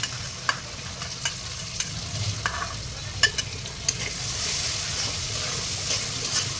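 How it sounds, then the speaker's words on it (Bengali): Ground spices stir-fried on low heat in a pan, before dried lotia fish goes in: a soft continuous sizzle with sharp, irregular scrapes and clicks of a spatula stirring, close up and without talk. "মশলাটা দিয়ে আর একটু কষাই নিতে হবে"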